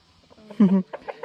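Farm chickens give a short burst of clucking at close range, a few quick calls then softer clucks, with no talk over them.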